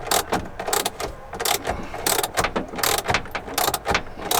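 A wrench tightens battery terminal connections during a Battle Born battery install, giving rapid, close metallic ratcheting and clicking in irregular bursts throughout.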